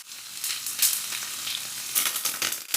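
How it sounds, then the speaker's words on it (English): Tofu browning in hot oil in a pan over medium heat, a loud, continuous crackling sizzle with sharp spitting bursts, close and alone without voices. "And now fry the tofu and let it brown."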